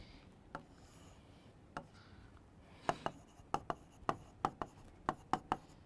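Chalk or pen taps and scratches out a word on a human respiratory system diagram, a run of crisp short strokes that starts sparse and then quickens into a rapid, even series of close clicks.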